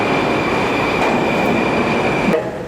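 A Soviet-era metro train runs loud and close, with a steady rumble, rail clatter and a sustained high whine, easing off near the end; no voices.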